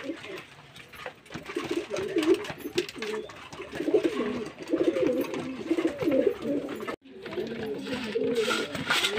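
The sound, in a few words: pigeons cooing while being fed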